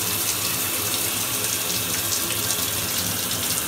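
A shower runs steadily over a pet snake, producing a constant loud hiss of spraying water with no voices.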